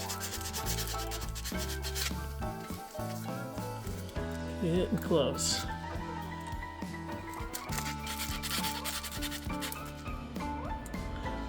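A 3D printed fishing lure, touched up with super glue, is sanded by hand in close, rhythmic rasping strokes that rise and fall in bursts while someone talks briefly over them.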